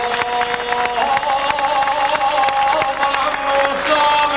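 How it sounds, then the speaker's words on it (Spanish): At an international regueifa contest in Vigo, an audience claps and cheers steadily under sustained tonal music or voices, loud and continuous throughout. "faceo o favor e todos e botarlle un grande aplauso."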